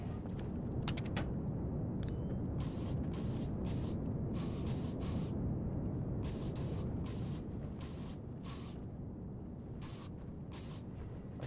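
Repeated short hissing bursts of spray paint from a can in the space-survival game Stationeers, loud and close, sounding in a steady on-off rhythm over a constant low background rumble.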